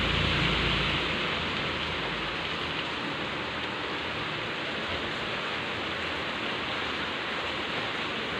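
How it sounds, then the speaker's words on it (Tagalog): Heavy rain falls steadily during a storm, a dense, continuous hiss of drops striking surfaces that stays loud and even throughout, with no voices. "Malakas yung ulan."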